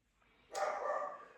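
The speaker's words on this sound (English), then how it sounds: "why does my dog always have to bark when I'm doing something?" A single dog bark sounds close indoors, a short burst that follows a quiet stretch and then fades as it trails off.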